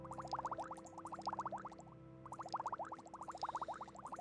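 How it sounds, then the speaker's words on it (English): Steady bubbling churns in the game Morrowind, rapid gurgling pulses in bursts that pause briefly and resume, fairly quiet and without voices. "And that bubbling noise is rather irritating."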